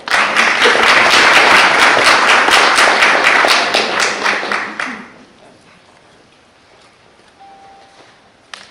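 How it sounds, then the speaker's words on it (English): A crowd at a school board meeting applauds loudly with dense, steady clapping for about five seconds, then it dies away into quiet room tone. "give them one more large round of applause."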